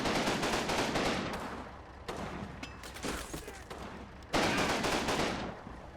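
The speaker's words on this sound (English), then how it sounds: "if you heard those shots, there's men in this building, and they were actually getting shot at from the field" Gunfire from the Combat Mission: Battle for Normandy war game, dense bursts of rifle and machine-gun shots crackling in rapid volleys across a village skirmish, loud and continuous with a few sharp surges.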